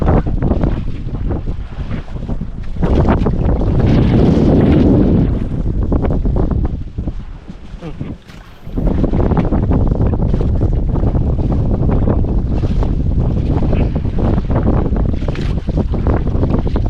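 Strong sea wind buffeting the microphone near a fishing boat, a loud, roaring rush that swells and briefly drops before returning at full force, with water and waves underneath.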